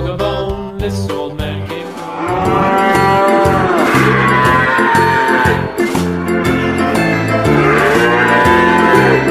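Cows moo loudly and repeatedly inside a cattle shed on a dairy farm, with long, overlapping calls filling the space close by and no talk.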